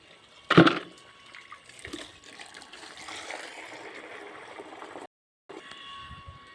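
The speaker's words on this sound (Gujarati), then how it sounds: "બાલટી પાણી ભરીને આપણે પાણી ગરમ કરવા જાય છીએ" Water runs steadily into a bucket, with a loud clunk at the start and a brief pause before the flow resumes.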